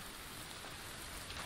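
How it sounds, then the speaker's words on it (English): Rain falls continuously in the survival video game The Infected, a dense, even patter on surfaces with no voices. "I hope it quits raining"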